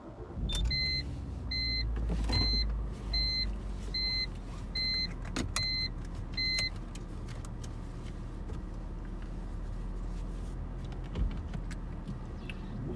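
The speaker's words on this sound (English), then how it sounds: "Yeah, so we'll start the car." A 2007 BMW X3 starts up: a row of repeated electronic chimes over a low engine rumble, followed by quieter cabin noise and small clicks.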